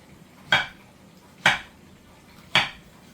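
Three sharp knife chops through plantains on a board, each a quick thud-and-click about a second apart, close and clear with no talking, slicing at an angle for tostones.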